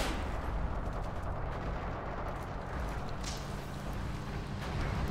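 Gunfire and distant explosions in the Forgotten Hope 2 war game on the Seelow Heights map, a dense, continuous rumble of battle with scattered crackling shots, fairly faint and steady throughout.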